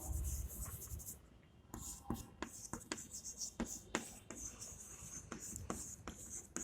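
Pen writing a maths answer by hand on paper: quiet, close scratching strokes in short bursts with brief gaps, soft and intimate, over faint room noise.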